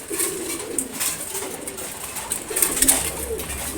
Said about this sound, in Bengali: এখানেও দুইটা মাদি কবুতর